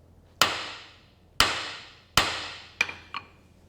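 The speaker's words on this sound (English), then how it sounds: "one little hit with a brass hammer and it'll chip the paint right off of here" A brass hammer strikes painted metal three times with sharp, ringing blows that decay slowly, followed by two lighter taps, each hit chipping off the paint.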